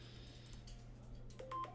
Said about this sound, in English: I know you guys can hear my phone going off